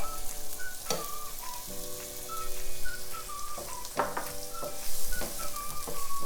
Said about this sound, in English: I'm going to add that ginger in there.